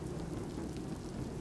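Heavy rain pours in a dense, continuous roar with low rumbling, steady and loud throughout with no voices.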